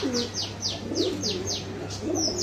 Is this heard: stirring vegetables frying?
no